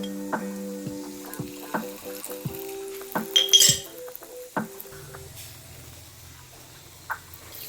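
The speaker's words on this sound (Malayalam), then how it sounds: "നെയ്യൊഴിച്ചാണ് കടുക് വറുക്കണത്" Mustard seeds frying in ghee for a Kerala mango pulissery give a close, steady sizzle with scattered sharp pops and a few light clinks of a utensil, with a low steady hum toward the end.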